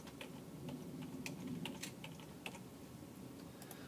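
Fingers typing a folder name on a computer keyboard, a quick run of light, close key clicks over a steady low room hum, with no talking.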